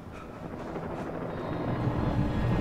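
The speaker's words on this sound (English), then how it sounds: "Uh-oh, a chopper." Helicopter in Alan Wake, a loud, dense rotor and engine roar that grows slightly stronger as it approaches, steady and close with no talk.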